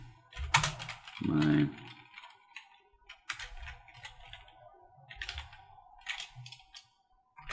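Bursts of typing on a computer keyboard, clusters of quick light key clicks separated by pauses, with a person talking intermittently nearby.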